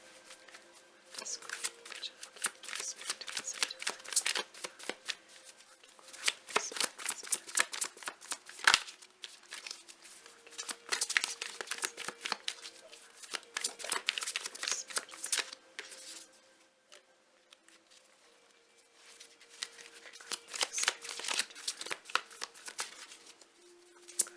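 Tarot cards are shuffled up close in repeated bursts of crisp riffling and flicking, separated by brief pauses, with no voices.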